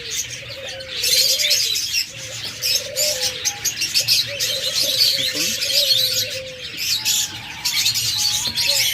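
Caged pet birds, including cockatiels, budgerigars, lovebirds and doves, chirp and tweet continuously in a busy chorus nearby, with low cooing mixed in and occasional fluttering.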